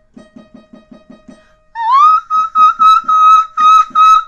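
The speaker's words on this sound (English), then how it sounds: "For me, it's high E flat, high E natural, and I whistle." A soprano demonstrates her whistle register, starting with a short run of soft percussive taps, then a loud, very high sustained note that rises, holds and pulses in several sung bursts, close and alone.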